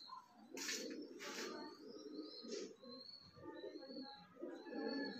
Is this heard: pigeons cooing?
yes